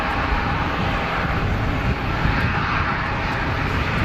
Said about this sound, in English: Here's the aircraft that was called. Classic shape of a Challenger.